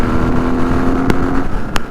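Royal Enfield Interceptor 650 twin-cylinder motorcycle riding through traffic, its steady engine drone and low hum running continuously, with a couple of sharp brief clicks or knocks breaking in.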